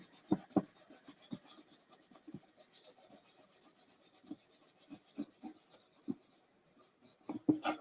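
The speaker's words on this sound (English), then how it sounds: "I got some paper I need to get off here" Paper is scraped and peeled off a wooden tray in faint, close-up bursts of scratchy rubbing, with a few sharper knocks and tears scattered irregularly through it.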